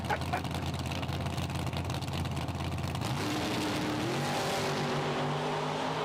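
A Chevrolet Chevette drag car launches down the strip at a PDRA Thunder Valley drag race, its engine roaring loud and steady with a rising pitch as it pulls away and fades slightly into the distance.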